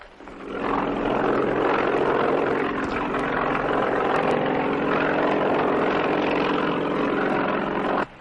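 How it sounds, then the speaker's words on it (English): A helicopter's rotor and engine roar swells in and holds steady and loud through the whole stretch, with no voices over it. "They've got a helicopter on the way to pick you up."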